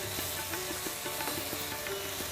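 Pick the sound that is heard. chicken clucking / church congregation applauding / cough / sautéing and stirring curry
sautéing and stirring curry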